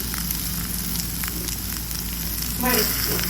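Food frying in oil in a pan gives a steady, close hiss and crackle, with a brief brighter burst of sizzling near the end.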